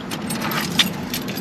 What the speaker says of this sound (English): Take the key out.